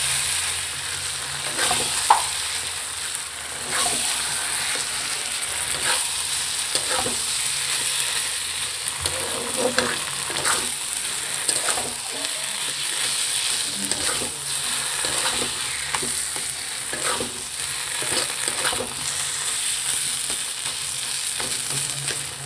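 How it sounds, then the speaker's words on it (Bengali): Food sizzles steadily in a frying pan while it is stirred for a mashed bean and potato dish, with repeated scraping stirs over a continuous bright hiss and no talking. "এবার এটাকে ভালো করে নাড়তে হবে।"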